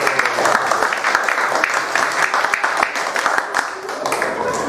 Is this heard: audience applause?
yes